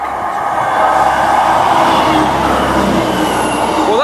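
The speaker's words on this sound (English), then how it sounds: "Train and it has failed to stop." A delayed train runs through a small station without stopping on a rural line near Strines and Chinley, giving a steady, loud rumbling roar of wheels and carriages close by, with no talk over it.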